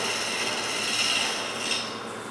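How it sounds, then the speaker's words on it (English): A steady, close rasping hiss comes from a tool shear scraping a wooden sphere spinning on a lathe. The scrape runs continuously and fairly loud, fading slightly at the end. "A little bit of shear scraping"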